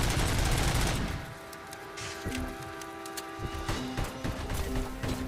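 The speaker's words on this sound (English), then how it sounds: "Semi-automatic fire." Gunfire from Robocop: Rogue City, a loud burst of noise at the start giving way to sharp metallic shots and mechanical clanks over a steady electronic tone, with game effects mixed throughout.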